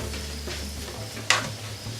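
Onions and kielbasa frying in a pan for jambalaya, a steady close sizzle with a brief scrape of stirring partway through.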